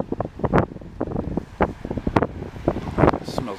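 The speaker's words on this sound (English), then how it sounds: "I gotta walk backwards because of the stupid fucking wind." Strong wind gusts buffet the microphone while someone walks outdoors along a residential street in Montreal West, producing uneven, close rumbling bursts.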